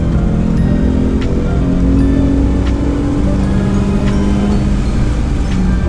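A V6 Ford Mustang on a time-trial track pulls hard under acceleration, its engine drone loud, steady and close throughout, with a rising harmonic tone shifting through the revs.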